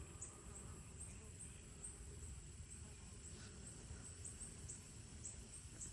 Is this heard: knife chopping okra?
no